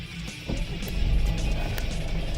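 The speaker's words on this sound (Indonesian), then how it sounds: "jadi kita mau coba nyalain mesin ya." The diesel engine of a Mitsubishi Pajero Sport cranks and catches. It settles into a low, steady idle that rumbles on close by, with no talking.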